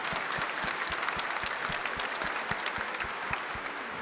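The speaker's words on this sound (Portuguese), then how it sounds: "dá uma salva de palmas aí então" A congregation at a morning Mass in Aparecida, Brazil, applauds in a large reverberant space. The clapping is steady and dense, moderately distant and continuous throughout, with no talking over it.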